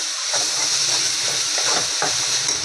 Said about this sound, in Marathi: स्लो गॅसवरती चांगलं मस्त भाजून घेऊया. गूळ विरघळून घेऊया.